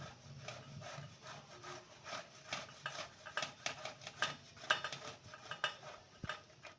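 Boiled potatoes being grated into a large bowl for farali vada, a steady run of soft, close rasping scrapes with light clicks against the grater, fairly quiet and rhythmic.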